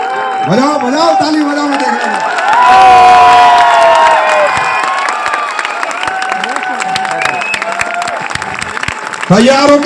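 A big crowd at an event in Jaipur, Rajasthan, keeps clapping and cheering, with whoops and shouting voices mixed into steady applause that rises in the middle and trails on near the end.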